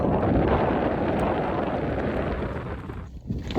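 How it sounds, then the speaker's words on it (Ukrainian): Strong wind on a mountain top buffets the microphone in a loud, continuous roar, easing slightly toward the end with a few gusty bumps. "тут дуже сильний вітер"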